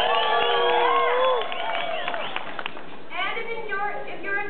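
An audience at a public servants' event cheers, whoops and shouts loudly as a crowd, the roar fading after a second into lighter scattered voices and calls.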